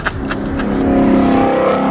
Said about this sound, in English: There is just something about this engine that I absolutely love. The sound of it and the way that it revs.